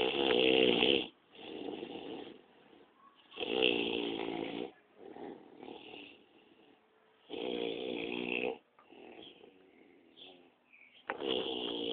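A man snores loudly in deep, rasping bursts. Four long snores come at a regular rhythm, with quieter breathing between them.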